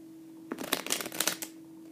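A deck of cards being shuffled close by, a quick riffle of crisp rapid flutters lasting about a second over a faint steady hum.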